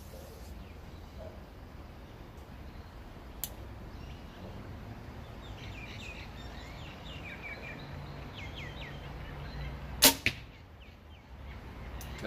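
An arrow fired with a back tension release gives a sharp, brief snap and thwack near the end, with the bow's release standing out over a steady outdoor background.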